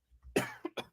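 A person coughs close up after something goes down the wrong pipe: a short burst of three or four harsh coughs, the first the strongest.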